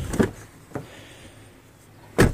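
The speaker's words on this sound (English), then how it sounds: "And listen how that door sounds. It sounds really solid." A Toyota 4Runner door shuts with a solid, heavy thunk, closing three times in quick succession, close by and without talk.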